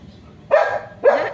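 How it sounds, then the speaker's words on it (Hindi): A dog named Julie barking on a balcony, two loud close barks about half a second apart. "भौंक रही बेचारी।"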